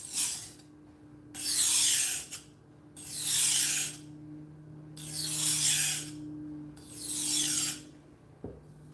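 A knife blade is stroked across a whetstone to flatten the burr: five long, even rasping strokes in a steady back-and-forth rhythm, close and fairly loud, with a low steady hum beneath and a small knock at the end.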